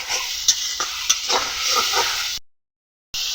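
Mustard paste, chili powder, turmeric and salt fry in oil in a kadai for a drumstick chorchori, giving a crisp, hissing sizzle with scraping stirs and a few sharp ladle taps. The sound cuts to brief total silence before it returns.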